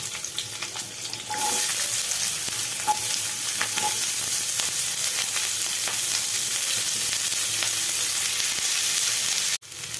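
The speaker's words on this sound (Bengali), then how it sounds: "আমি এবার এই তেলের মধ্যে পেঁয়াজগুলোকে দিয়ে দিলাম। পেঁয়াজগুলো হালকা লাল লাল ভাজা হবে।" Onions sizzle and crackle loudly in hot oil, frying for a chilli fish roe dish, a steady frying hiss that jumps up after a second and continues almost to the end.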